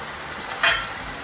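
Pieces of cut raw mango dropped into hot oil for gojju give a quick burst of bright sizzling frying at close range, which settles into a steady soft crackle.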